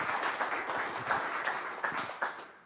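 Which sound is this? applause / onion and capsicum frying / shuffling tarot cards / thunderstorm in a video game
applause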